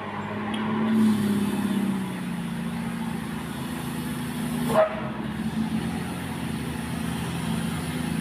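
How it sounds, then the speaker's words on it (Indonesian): A truck drives along the steep, winding Sitinjau Lauik mountain road, its engine a steady low drone with a brief passing swell midway and some outdoor noise around it. "Truk Yudi melintas di Sitinjau Laut."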